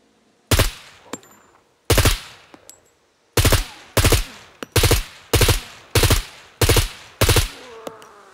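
A suppressed automatic gun in the video game SCUM fires about nine short, sharp bursts, loud and close, each one a tight cluster of shots separated by brief pauses, with no voices.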